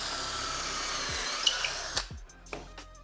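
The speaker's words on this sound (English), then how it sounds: "Now I can drill through my holes that are already in place." A mini drill boring through wood held in a jig, with a steady high whine that stops abruptly, then several brief knocks and clatters as the tool is set down.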